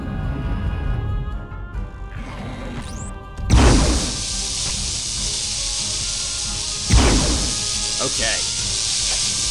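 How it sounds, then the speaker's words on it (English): A steady, bright hissing sizzle in the video game Turok 2: Seeds of Evil fills most of the clip after a sudden onset, with a couple of sharp bursts and a brief spoken word over it. "Enjoying the very nice sizzling sound."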